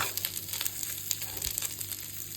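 Shredded chicken roasting in a pan with masala, curry leaves and ginger garlic paste, a soft steady sizzle with scattered crackles and light scraping, fairly quiet and continuous, with no talking.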